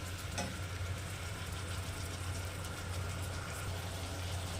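Sliced onions fry in a pan as a steady, close hiss with low hum underneath, continuous and even throughout with one small clink near the start.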